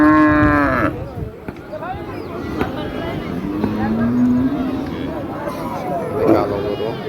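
Cattle at a crowded Eid al-Adha livestock market let out loud, long moos, one at the start and another midway, over a steady background of crowd babble and nearby talking.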